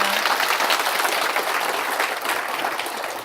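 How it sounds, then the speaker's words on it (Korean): A lecture audience gives a dense round of applause to a professor after a morning talk on regional airports, loud and sustained, easing slightly toward the end. "좋은 강의 해주신 교수님께 감사의 박수 부탁드립니다"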